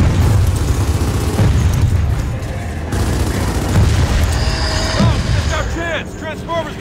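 Gunfire and heavy booms ring out during a boss fight in Gears of War 4, with players shooting at an exposed core in a storm; dense continuous blasts and shots, loud and close, with a raised voice partly over them.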